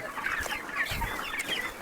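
Several poultry farm chickens cluck and chatter close by, a steady overlapping flock murmur with occasional sharper calls.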